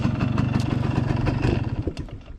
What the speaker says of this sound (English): I love this little bike so much. Thing literally fires right up. It runs fantastic.